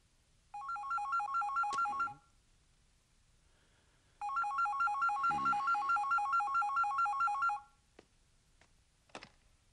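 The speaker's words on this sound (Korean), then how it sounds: "내가 꼭 전화를 받아야 하오." A telephone rings in two long trilling bursts separated by a brief pause, clear and alone, followed by a couple of faint clicks.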